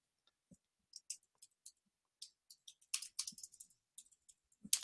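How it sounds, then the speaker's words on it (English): Keys clicking on a computer keyboard while a task title is entered in an IT support ticketing system, scattered light taps in short bursts with pauses, close and quiet, no talking. "You should type in the title,"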